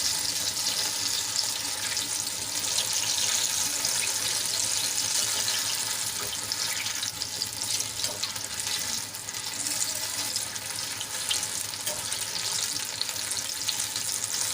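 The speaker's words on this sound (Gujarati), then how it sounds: "મરચાંની તળાતા વાર નથી લાગતી ભજીયાની તરત તળાઈ જશે" Batter-coated chili pepper fritters (bhajiya) bubbling in hot oil in a small kadai, a loud, steady, dense crackle and hiss that persists evenly from start to finish without talk.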